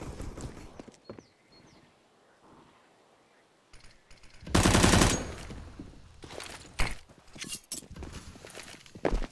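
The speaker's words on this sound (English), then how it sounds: "Shots fired." Gunfire on the Inferno map of the shooter game Counter-Strike, scattered sharp shots and a loud burst of rapid fire, with footsteps and clattering game sounds in between.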